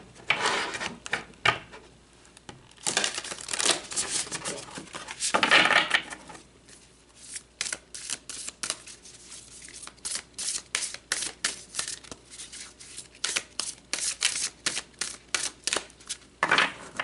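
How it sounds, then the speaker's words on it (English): Tarot cards are shuffled and drawn by hand, giving a steady run of crisp riffling and flicking sounds, close and fairly loud, with no talking. "So let's pull another card."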